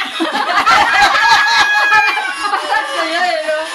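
Chickens cluck and a rooster crows close by, mixed with people chattering in the background.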